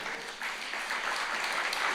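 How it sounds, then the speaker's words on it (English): An audience at a motivational seminar breaks into dense, continuous applause that holds steady for two seconds without talk. "Give her a clap"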